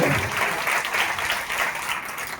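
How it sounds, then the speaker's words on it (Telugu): A church congregation at a Sunday service applauds in a dense, even burst of many hands clapping at once, close and continuous for a couple of seconds. "చప్పట్లు కొట్టి దేవునికి స్తోత్రం"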